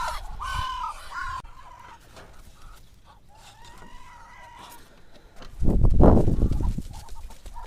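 Ducks call out in a few scattered quacks and squawks, moderately close, with a louder rustling burst near the end.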